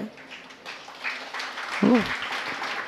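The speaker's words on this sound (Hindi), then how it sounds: "देखो ताली बजने लगती है" An audience claps lightly during a Jain religious discourse, a faint, scattered patter of hands with a voice speaking briefly through it.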